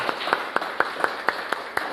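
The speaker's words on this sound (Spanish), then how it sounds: "Dele el más fuerte de los aplausos al Señor" Rhythmic clapping from a church congregation, steady evenly spaced claps at a moderate distance over a faint background hum, without much crowd roar.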